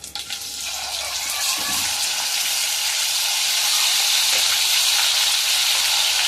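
Ginger-garlic paste hits hot tempering oil for a cucumber chutney, setting off a loud, continuous sizzling hiss that swells and then holds steady close by.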